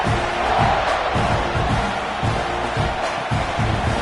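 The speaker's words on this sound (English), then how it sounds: "this crowd is feeling themselves after that last drive" A stadium crowd cheers at a Nebraska versus Texas A&M college football game, a loud, dense, sustained roar of many voices that swells slightly without a break.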